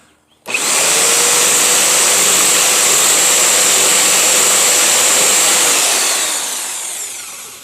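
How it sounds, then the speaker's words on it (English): A jigsaw rips through an MDF speaker adapter with the blade run backwards, a loud, steady high-pitched buzzing whine that starts abruptly and holds for several seconds before tapering slightly, with no voices. "Crank it up, and then pull the blade back."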